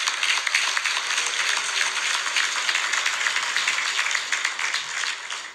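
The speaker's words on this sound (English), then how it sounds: "Please give a round of applause for all the organizers and the hosts." An audience at a community gathering in Creston, BC applauds the organizers and hosts, giving a sustained, even round of many hands clapping that holds steady and fades at the end.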